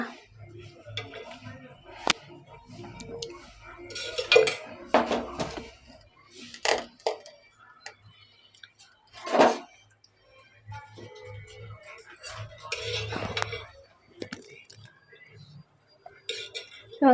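A kadai is set on the stove and oil is poured in, making scattered metallic clanks and clinks up close while a person talks on and off.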